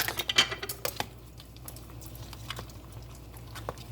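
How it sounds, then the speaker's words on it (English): Spanish tortilla ingredients mixed in a bowl, with a burst of quick utensil clicks and taps at the start, then softer, sparser stirring ticks over a low background hum. "Mix everything really good"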